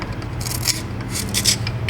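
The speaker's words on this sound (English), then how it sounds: "So I'm just going through scraping off all the corrosion using the carbide scraper, nice and flat." A carbide scraper works corrosion off the flat face of an exhaust manifold on a 2020 GMC 2500HD 6.6, giving repeated short raspy strokes close to the microphone over a low background hum.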